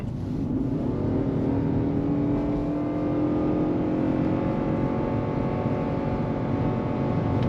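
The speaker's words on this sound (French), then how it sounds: "en mode normal, allez, on fait une petite accélération" A 2021 Ford Kuga full hybrid (FHEV) accelerates gently in normal mode, its engine note rising in a steady, loud drone heard from inside the cabin, with no talking.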